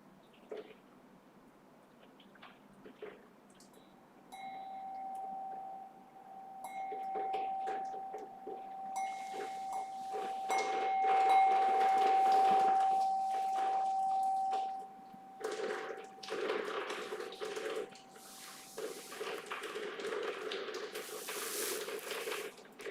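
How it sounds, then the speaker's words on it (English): A meditation bell rings alone after a quiet guided breathing practice, a clear sustained tone that swells and slowly decays over several seconds, with faint room noise around it. "until the sound of the bell brings the practice to a close."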